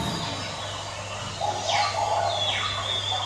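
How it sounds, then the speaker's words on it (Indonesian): Birds chirping near rushing water, with several bright sweeping chirps and calls rising in the middle of the clip above a steady hum and broadband background noise, moderately near. "Suara burung berkicau,"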